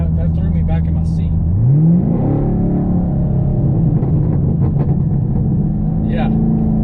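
A car fitted with an Ultimate9 evcX throttle controller idles, then launches hard, engine pitch sweeping up sharply and holding a loud, close, steady drone as it pulls away.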